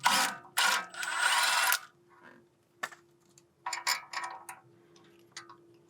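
A pinch bolt comes off a BMW E46 front suspension knuckle with sharp, close metallic clicks and short ratcheting bursts separated by quiet pauses.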